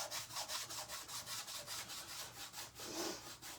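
Wax rubbed into aged wood on an old window frame with a lint-free cloth, a quiet, steady back-and-forth scrubbing in an even rhythm, close and alone.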